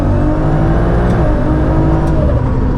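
An 800hp Toyota Supra MKIV with a ZF8 automatic gearbox swap runs hard at the Nürburgring, its engine a loud, continuous drone heard from inside the car, with quick upshifts barely breaking the steady roar.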